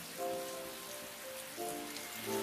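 Rain falling in the video game Atelier Ryza 2, a faint steady patter on surfaces beneath soft sustained background music tones.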